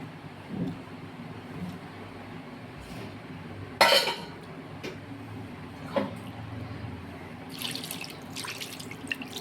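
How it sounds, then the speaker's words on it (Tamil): Half a tumbler of water poured onto chicken frying on a hot tawa for a spicy chicken tawa fry, a faint watery splash with one short, sharp sizzling burst midway over low kitchen background. "இப்போ ஒரு 1/2 டம்ளர் தண்ணி ஊற்றிக்கணும்."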